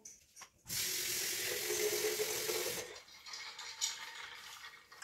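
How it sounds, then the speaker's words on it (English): Water is poured into a container of vase filler beads, a steady rushing pour lasting a couple of seconds, then softer trickling and small clicking settling sounds afterward. "I'm going to add water to them"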